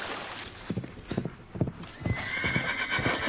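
In a Game of Thrones scene with Brienne and Podrick, a horse's hooves thud in quick uneven beats before a loud, shrill neigh rings out over the final second or so.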